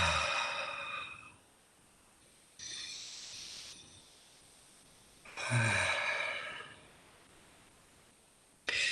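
Deep, smooth breaths during a breathwork and movement session come in long, soft rushes with quiet pauses between them, close and unhurried.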